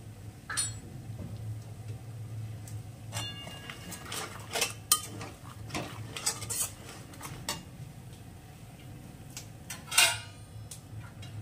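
A spoon stirs vegetable bhuna khichuri in a pot, giving scattered clinks and scrapes against the metal over a low, steady background hum, with a sharper knock near the end.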